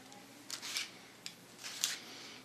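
Scissors cut hair for a sharp bob haircut in a quiet room. A few close, crisp snips come in two quick pairs, faint and alone.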